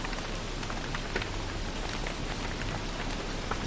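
Steady rain pours down in the Don't Starve video game, an even broadband hiss of drops with no breaks throughout and no voices over it.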